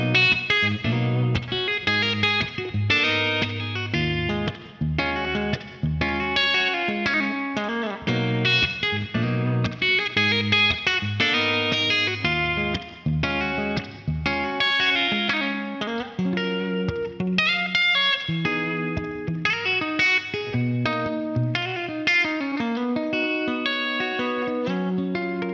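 Gibson Les Paul electric guitar played through its bridge pickup with a slightly overdriven tone, a continuous passage of chords and melodic lines with some effects and reverb, played alone throughout.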